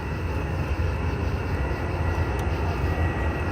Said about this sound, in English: those lights right there, yeah, that's a C-130.